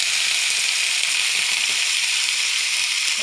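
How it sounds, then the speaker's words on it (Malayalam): A refrigerated paratha, dipped in water and drained, sizzles in oil in a pan, a loud, even hiss of frying that runs unbroken from start to finish. "എണ്ണയൊന്ന് പരട്ടി രണ്ട് ഭാഗവും മറിച്ചിട്ട് ചൂടാക്കിയെടുക്കാം"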